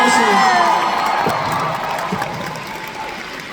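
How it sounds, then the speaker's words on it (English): A large convention panel crowd cheers and whoops while applauding after a live voice performance at an anime expo, loud shouts and sung-out cries at first, easing into a fading wash of clapping and crowd noise. "Let's get another round of applause for that amazing performance!"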